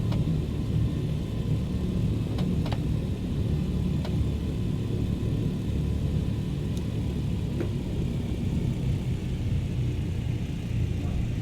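A tail-wheel aircraft in Microsoft Flight Simulator 2020 rolls along a runway after landing. A steady, heavy engine drone and rumble continues throughout, with a few faint clicks.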